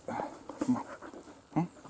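Young eight-month-old laika dog giving soft whimpers and breathy pants in short bursts, fairly close and quiet, with a louder whine near the end.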